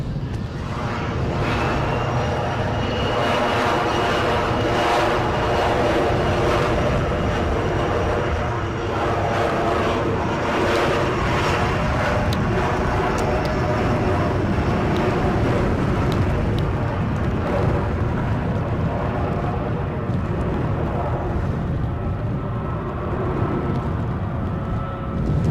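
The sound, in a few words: Airbus A321neo aircraft passing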